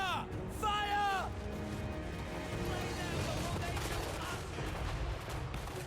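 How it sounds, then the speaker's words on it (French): Cannon and Hellstorm rocket battery fire in a video game battle, dense booming volleys and crackling blasts layered with shouted commands and battle noise throughout. "Hellstorm rocket battery! Crew to cannons! Fire! Fire!"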